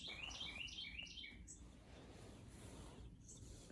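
A titmouse calls outdoors near a house deck in a quick series of high, bright chirps during the first second and a half, then fades into a steady hush of background ambience.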